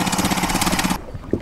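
A fishing boat's engine chugs loudly in a fast, steady rhythm close by, then cuts out abruptly after about a second, leaving a quiet pause broken by a single knock.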